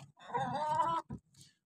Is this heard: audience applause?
no